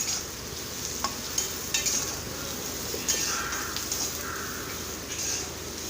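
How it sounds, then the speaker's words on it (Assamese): Steady sizzle of onions frying with fenugreek fills the whole stretch, with occasional light clinks and scrapes of a utensil stirring in the pan. "পিঁয়াজটো এতিয়া ৰঙা কৰি ভাজি লৈ আছোঁ।"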